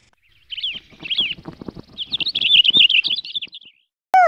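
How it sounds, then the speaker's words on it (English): Bright bird chirps and tweets from a Disney Learning Phonics Quest video game, a short run of rapid twittering calls heard close and alone, ending with a quick sweeping chime. "Birds!"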